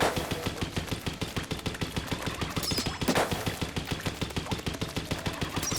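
Rapid, evenly spaced bursts of ink weapon fire from Splatoon 3 repeat steadily for several seconds, loud and close with no talking.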